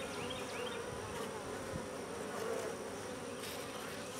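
A dense, steady buzz of many honey bees in a hive box, close and continuous throughout, with no voices.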